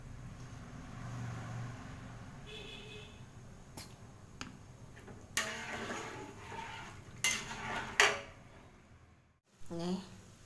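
Dirty plates being washed in a home kitchen while fish stew heats to a boil: scattered clinks and clatters of dishware, with sharp bursts of running water or rinsing and quieter handling sounds between.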